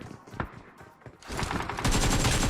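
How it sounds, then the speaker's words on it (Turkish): Gunfire in the mobile battle royale game PUBG Mobile: a few sharp scattered shots, then a dense sustained burst of rapid fire that grows louder and continuous, with no talking. "Baba arkadan şimdi silah sesi geldi."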